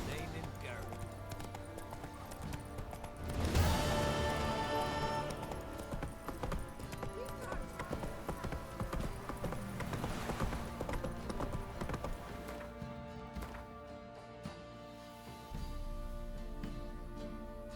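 Horse hooves in The Witcher 3 clip-clop steadily at a gallop, close and continuous with game music or ambience underneath, and a voice talking over it.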